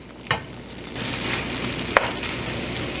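Egg stirred into frying vegetables for gluten-free pad thai, a steady close sizzle that swells louder after a second, with two sharp spatula scrapes against the pan.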